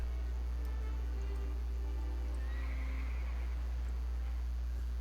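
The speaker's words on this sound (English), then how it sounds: "I heard a horse." A horse neighs amid the background soundscape of the city-building game Anno 1800, a single whinny rising briefly in the middle, faint against a constant low hum and ambient music.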